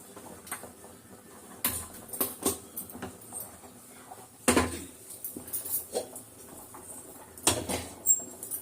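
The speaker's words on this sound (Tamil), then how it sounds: "சாதம் வேகுது, எடுத்து அந்த பக்கம் போட்டுருவோம்" Clattering metal knocks and scrapes of a pot of cooked rice being lifted and shifted aside on a home kitchen stove, several sharp clanks amid lighter rattling, close and with no talk.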